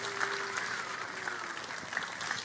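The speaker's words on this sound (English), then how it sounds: "Let's give them a big round of applause" A crowd claps for 5th and 6th grade students at a school board public session, a steady, fairly faint patter of many hands heard from a distance over a low background hum.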